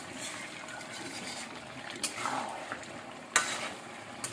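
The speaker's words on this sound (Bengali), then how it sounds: "তেলটা একটু বেশি দিয়েছি যাতে ভালো মতো ফ্রাই হয়।" Food frying in a generous amount of oil: a soft continuous sizzle close by, with a couple of sharp clinks and scrapes of a utensil stirring in the pan.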